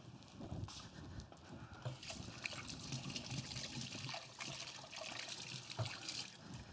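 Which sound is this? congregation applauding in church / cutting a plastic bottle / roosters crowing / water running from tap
water running from tap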